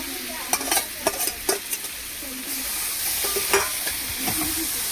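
A fish head added to a hot pan of frying fish curry, with a steady sizzle and several quick scraping stirs of a spatula, close and fairly loud.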